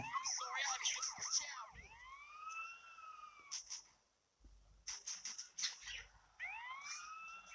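Police car sirens in the video game GTA San Andreas wail and yelp in rising and falling sweeps, loud and close, broken by sharp bursts and a brief lull midway.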